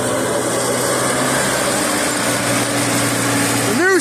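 A tractor engine drones steadily and close while the tractor slides across ice, a constant mechanical hum holding throughout with a brief louder swell near the end.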